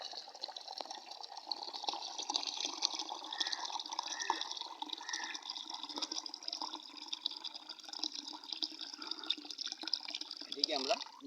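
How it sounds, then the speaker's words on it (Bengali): Tap water pours steadily into a jug that is already a third full, a continuous splashing rush heard up close, its tone rising near the end as the jug fills to the top. "এখানে আমরা বাকিটা ভরে দেব জল দিয়ে।"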